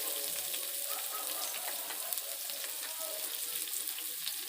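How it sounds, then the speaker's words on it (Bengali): Chopped onion frying in hot oil, a close, steady, crackling sizzle that holds without a break, with faint stirring ticks and no talking. "দিয়ে দেব পেঁয়াজ কুচি"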